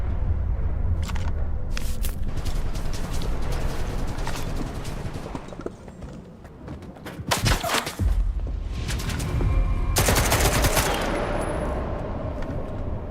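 Gunfire in the shooter game Stalker 2 comes as dense bursts of automatic shots and a few loud single cracks across a noisy battle soundscape.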